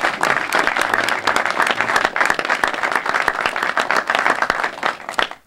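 A crowd applauds steadily and fairly loudly at a Pixomondo studio announcement in Baton Rouge, with dense overlapping claps and a few sharper individual claps standing out.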